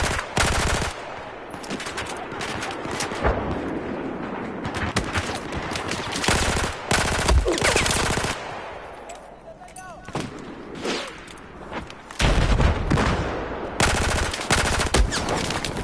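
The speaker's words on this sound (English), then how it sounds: "I have eyes on an enemy machine gunner." Enemy machine gun fire in a war video game, loud repeated bursts of rapid shots with sustained automatic volleys and heavy gunfire throughout, a voice speaking over the shooting.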